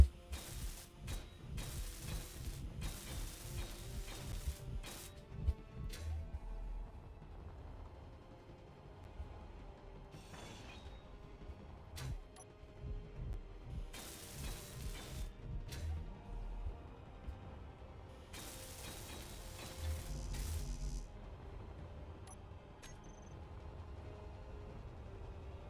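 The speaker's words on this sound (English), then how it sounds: "I'll just go ahead and weld up the outer bits." Block welding in the Space Engineers video game at an asteroid outpost: bursts of hissing, crackling weld noise over a low mechanical hum, several loud spurts separated by quieter stretches, no talking.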